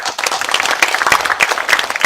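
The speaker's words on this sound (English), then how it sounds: "Please give him a big applause." Audience applause at an academic lecture as a speaker is welcomed to the podium, a dense, steady wash of many hands clapping for about two seconds with no talking over it.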